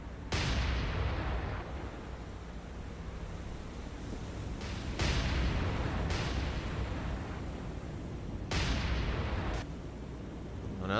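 Heavy naval guns boom in the War on the Sea naval combat game, several loud blasts at irregular intervals over a constant low rumble of sea and engines, with no voices.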